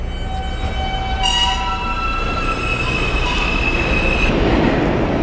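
A New York City subway L train rumbles loudly and steadily through the whole stretch, with long tonal squeals and whines from wheels and motors riding over the dense low roar; no one speaks.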